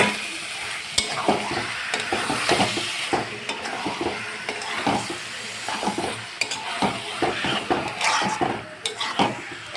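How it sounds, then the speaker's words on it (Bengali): Lote fish stirred into a thick, oil-releasing masala in a pan, an ongoing sizzle with repeated close scraping and clattering of a spatula against the metal, busy and irregular, no talking. "এখন আমি এর মধ্যে লোটে মাছগুলো দিয়ে দেবো।"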